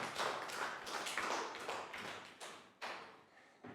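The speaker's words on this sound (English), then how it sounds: "Round of applause." Pupils in a primary classroom give a short round of applause, a dense patter of clapping hands that swells and fades in bursts over a few seconds, with no talk over it.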